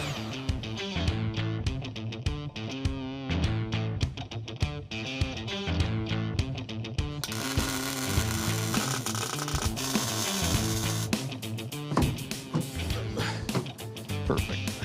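A ratchet clicks in rapid bursts while bolting down the seat rails in a race car, close and crisp, with short pauses and a stretch of hissy noise in the middle.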